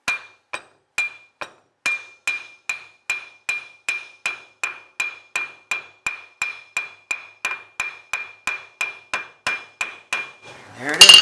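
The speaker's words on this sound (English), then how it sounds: "I'm just trying to gently convince this entire axle it needs to go in." A small hammer taps a Mustang axle into place during a brake rebuild, with about two dozen crisp metallic clinks at a steady, even rhythm, followed by a short scraping clatter.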